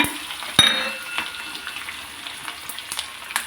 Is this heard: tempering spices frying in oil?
yes